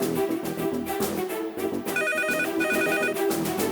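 A telephone rings with a repeated electronic trill in two short bursts, clear and mid-loud, layered over continuous dramatic background music in a Tamil television serial scene.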